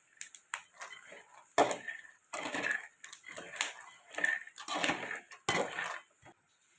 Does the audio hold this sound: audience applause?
no